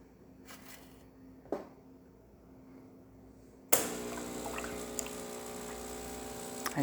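A DeLonghi Perfecta Cappuccino Touch dispenses hot water: after a few quiet seconds with a faint click, the machine abruptly starts a loud, steady pump hum and gushing stream that carries on evenly to the end.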